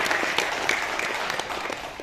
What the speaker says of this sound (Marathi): आपण टाळ्या वाजून त्यांचे स्वागत करू